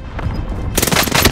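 Rapid gunfire from the video game Call of Duty Warzone on Rebirth Island; loud, close bursts of shots that intensify into a dense volley in the second half.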